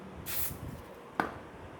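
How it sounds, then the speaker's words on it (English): A short hiss of disinfectant aerosol sprayed on an aircraft, brief and close, followed a moment later by a faint second spritz. "Slight small spray."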